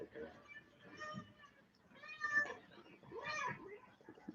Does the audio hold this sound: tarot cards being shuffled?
no